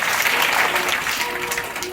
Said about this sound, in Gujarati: તાળી પડો ભાઈ છોકરા માટે